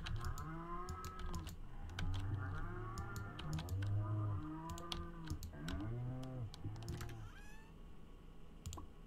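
Cows in the video game Stardew Valley moo several times in long, low, drawn-out calls, close and fairly clear, mixed with light clicking of keys or game sounds.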